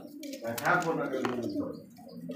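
Low, throaty cooing of a female pigeon, soft and close, with a person talking over it for much of the time.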